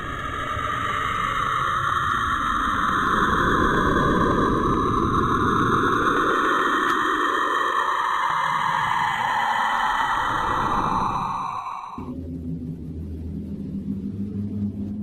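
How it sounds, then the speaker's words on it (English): A recording of Saturn from space, made audible, gives a dense, eerie whooshing rumble with a high whistling tone across it. It is steady and loud, then cuts to a lower, calmer drone near the end, with no voices. "The sound of Saturn."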